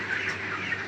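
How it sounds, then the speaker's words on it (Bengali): Chickens on a hot Rajasthan farm give a steady, close murmur of clucking and chirpy calls that carry on through the full second without pause, with no voices heard. "গরমের জন্য মুরগা একসাথে সব দেখতে পাচ্ছেন।"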